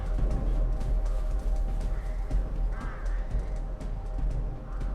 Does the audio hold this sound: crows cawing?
yes